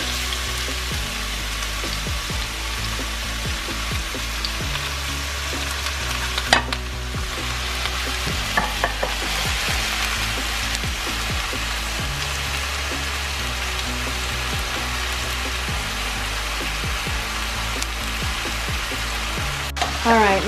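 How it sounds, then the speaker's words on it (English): Onions fry in hot oil in a pan, a continuous close sizzling crackle with scattered pops and occasional scrapes of stirring throughout. "We're gonna let the oil heat up a little bit and then start adding the onions."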